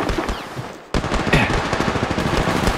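Rapid automatic gunfire from the Apex Legends Mobile video game, loud and continuous in fast bursts, with a brief cut before a second sustained stream of shots.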